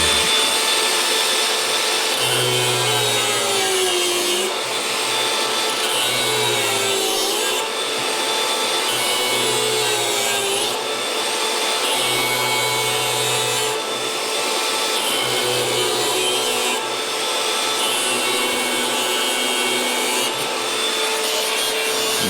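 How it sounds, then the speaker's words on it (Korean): An angle grinder cuts through the pop-up drain part of a bathroom sink, giving a continuous loud, steady grinding whine that pulses slightly as the cut progresses, with no talking. "그러면 그라인더로 한번 잘라보도록 하겠습니다"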